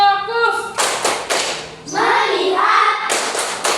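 Students in a classroom perform the "tepuk fokus" routine, sharp rhythmic claps and taps mixed with voices chanting along, loud and close, in short groups separated by brief pauses.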